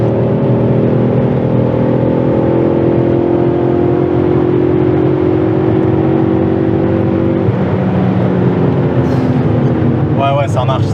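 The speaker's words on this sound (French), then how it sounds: "C'est bon, on a fait notre gros freinage." A 400 hp BMW M5 E39 heard from inside, with a loud, steady engine drone and road roar under wind noise as the pitch climbs, then eases, and faint squeaky tones appear near the end.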